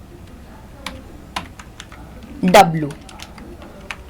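Keys clatter on a computer keyboard while Java code is typed in the BlueJ editor, with a few sparse taps and then a brief burst of quicker clicking. Someone speaks Hindi throughout.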